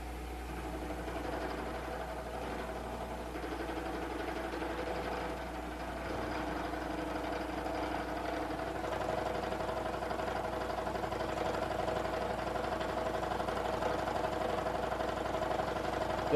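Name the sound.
CNC form cutter milling a block of aluminum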